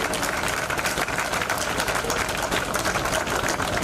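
A large audience at a management institute function gives a sustained round of applause, steady dense clapping filling the whole stretch at an even, fairly loud level with no talk over it.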